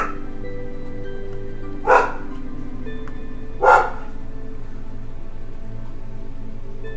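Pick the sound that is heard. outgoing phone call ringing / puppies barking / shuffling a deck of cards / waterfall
puppies barking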